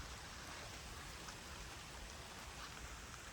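Rain falls over farmland during fodder cutting, a faint, even hiss that continues without change for a few seconds, with no voices.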